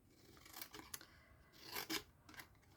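Scissors snip through card stock on either side of a score mark while making a treat box, a series of faint, close crisp cuts and slides in irregular rhythm.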